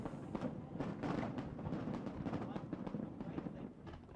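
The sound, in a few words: fireworks at the 1997 Hong Kong handover ceremony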